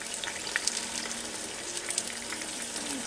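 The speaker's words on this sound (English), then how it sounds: "I know you can hear that sizzling down in there" Steady sizzling and crackling of game hens roasting in a Ninja Foodi Deluxe cooker pot, a continuous hiss with occasional small pops and faint clinks, no talking.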